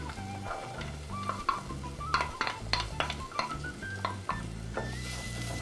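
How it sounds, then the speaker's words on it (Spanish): Pancetta, bell pepper and onion fry in garlic-scented oil in a pan, with a constant sizzle broken by repeated scraping stirs and utensil clatter close up. "Incorporamos la panceta, el pimiento, ponemos la cebolla"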